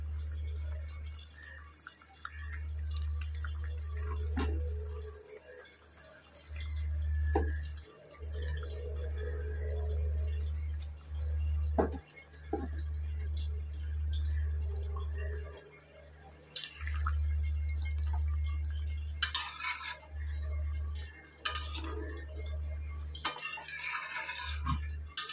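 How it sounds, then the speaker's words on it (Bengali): A pot of Bengali katla fish curry broth with kakrol boils on a stove, a low steady rumble with bubbling and occasional drips and clinks nearby, broken by short pauses. "ঝোলটা উতলে গেছে"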